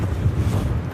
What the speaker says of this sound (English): you can tell just as you asked that it is quite windy here